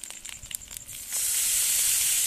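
Onion, garlic and ginger paste hit hot oil in a wok for a pangas fish curry, setting off a sudden loud, steady sizzling hiss after about a second of quieter clinking and kitchen rustle.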